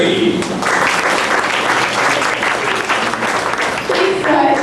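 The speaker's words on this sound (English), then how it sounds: "a big round of applause for Captain Donna and her brave crew, Sarah and Jerry." Theme-park studio tour audience clapping for the performers in a big round of applause, a dense, sustained wash of hands throughout with a few voices mixed in.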